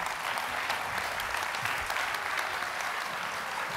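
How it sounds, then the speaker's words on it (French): Applause from the audience at a health talk on staying active, a dense, even patter of many hands clapping steadily throughout with no voices over it. "on les applaudit parce que c'est pas toujours facile"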